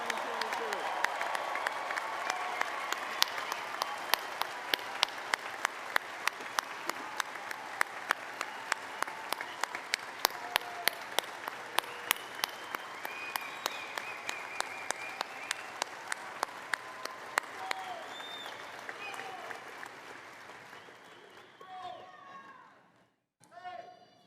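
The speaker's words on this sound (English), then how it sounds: "everyone gathered here can congratulate you with a round of applause" A commencement crowd applauds the graduating class at a University of California fall ceremony, with steady, sustained clapping heard from a distance for about twenty seconds before it dies away.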